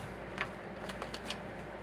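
A deck of oracle cards is shuffled by hand, with soft, close riffling and brushing and a few crisp card snaps at a low level.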